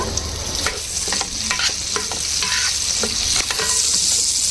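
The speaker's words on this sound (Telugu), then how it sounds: "2 ఉల్లిపాయలు ఇలా సన్నగా పొడవుగా కట్ చేసుకుని వేసుకోవాలండి" Thinly sliced onions sizzle loudly in hot oil, close up and continuous, with scraping stirs and clinks of a spatula against the pan recurring throughout.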